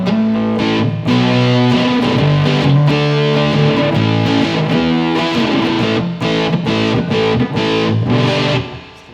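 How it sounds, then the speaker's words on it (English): Electric guitar played through a fuzz pedal into an iRig mobile interface: thick, saturated chords and sustained notes ring out loud and continuous, with brief choppy breaks before fading at the end. "Alright, so there's also the fuzz pedal."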